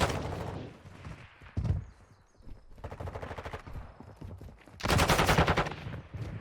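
Rapid bursts of automatic gunfire crackle from a competitive esports match, with several loud volleys separated by short pauses and a dense final burst near the end.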